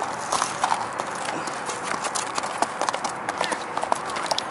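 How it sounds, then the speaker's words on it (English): Horse hooves clip-clop in an irregular patter, with a Standardbred among the horses being ridden; the footfalls are moderately near and mixed with background noise and some talk. "And the horse on the right's the horse that Lara rode last week in the dark."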